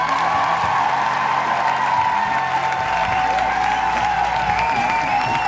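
A comedy show audience gives a comedian a warm welcome with sustained, fairly close applause and a few cheers, holding at an even level throughout.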